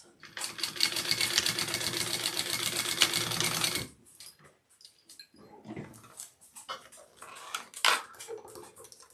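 A sewing machine stitches a backpack in a fast, steady, loud run lasting about four seconds, then stops, leaving quieter handling clatter and faint voices.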